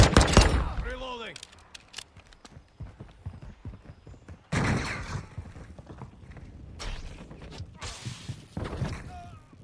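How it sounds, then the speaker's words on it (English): A P890 'Candy Cane' pistol being reloaded in Call of Duty Modern Warfare II: a quick run of close mechanical clicks and clacks, followed by bursts of gunfire and clattering action noise. "Reloading."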